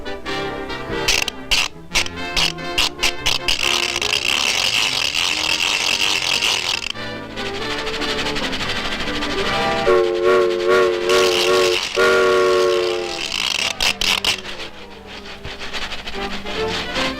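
A cartoon trolley car from a 1936 animation clatters along rails with rapid mechanical rattling and clicking, whistle-like tones and brassy music, loud and busy throughout.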